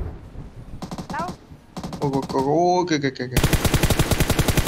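Gunfire in PUBG Mobile: rapid automatic bursts, with a loud, sustained machine-gun rattle at the end, mixed with game sound effects. A voice briefly speaks over the shooting.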